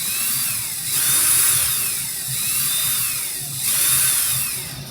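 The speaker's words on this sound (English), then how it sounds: "Pulling, and my drill's in reverse." Power drill running in reverse while twisting 42 gauge wire for a vape coil build, a steady close whine that swells and dips in several pulses over the clip.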